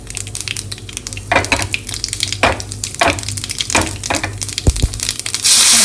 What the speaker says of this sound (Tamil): பெருங்காயம் சேர்த்து பெருங்காயமும் பொரிஞ்சதுக்கப்புறம்